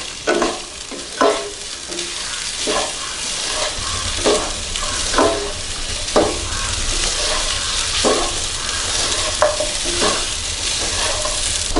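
Three or four dried red chillies sizzle in hot oil in a pan while a spoon stirs them in regular strokes, each stroke a loud scrape over a constant frying hiss, with no talk.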